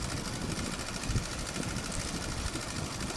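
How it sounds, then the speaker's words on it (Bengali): Sewing machine stitching the side seam of patterned cotton cloth for a child's panty, a steady low continuous whir running throughout at moderate level with no pauses. "সাইডটা আমি সেলাই করে নিলাম"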